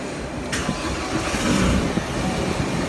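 A remapped MY17 Isuzu D-Max pickup engine starts without the clutch pressed: a sharp crank burst, then a steady, fairly loud mid-pitched rumble as it settles and runs.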